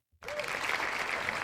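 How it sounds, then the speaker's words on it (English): A burst of recorded applause plays from an applause button on a game show set, starting suddenly after a brief silence and continuing as steady, moderately faint clapping with a crowd feel. "That applause was a little late."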